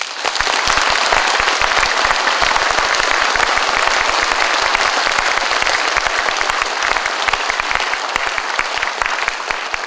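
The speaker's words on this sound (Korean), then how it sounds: "다시 한번 큰 박수 부탁드리겠습니다" Big round of audience applause at a city mayor's farewell ceremony, dense continuous clapping from a large crowd, loud and steady throughout.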